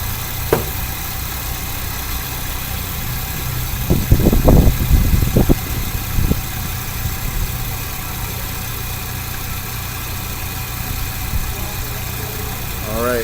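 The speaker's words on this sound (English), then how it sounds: "Vehicle started, AC on max" A car engine idles steadily with the air conditioning running on max, a constant mid-pitched hum and fan drone, with a few clattering knocks of tool handling and some brief speech partway through.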